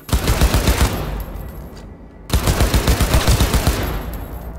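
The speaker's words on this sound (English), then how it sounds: "Cover can protect you from enemy fire." Rapid bursts of automatic gunfire in Cyberpunk 2077, loud and close, with two stretches of fast repeated shots broken by a short pause.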